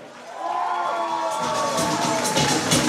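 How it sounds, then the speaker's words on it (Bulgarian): Audience at a school graduation ball in Shumen cheering and applauding visiting guests from Smyanovo, a steady crowd roar of clapping and voices that swells louder midway and stays dense to the end. "Нека да аплодираме нашите гости от Смяново."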